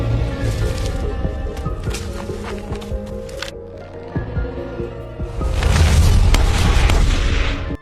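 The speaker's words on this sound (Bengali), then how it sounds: "আগেই পৌঁছানো জ্যাক গুলি শোনার পর বুঝতে পারে কিছু একটা ভুল হয়েছে।" A gunshot rings out in a thriller film set in a menacing forest. Sharp bangs and thuds sit within a dramatic movie soundtrack, which swells louder toward the end.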